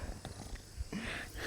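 A cat sitting on a person's lap in an Indonesian village purrs softly and closely, a faint, low, rapid rumble over quiet surroundings.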